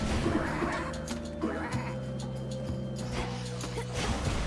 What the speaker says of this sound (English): Let's turn some of them into sheep.